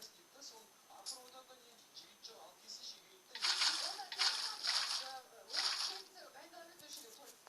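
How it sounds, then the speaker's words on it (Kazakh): Water is placed in Minecraft next to a lever-operated gate build, making several short splashing bursts while someone narrates over them. "Сосын қайтадан суды қоя саласыздар."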